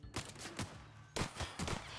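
Gunfire from a weapon in the video game The Outer Worlds, several sharp close shots in two quick bursts separated by a short pause, loud and punchy against a quiet background.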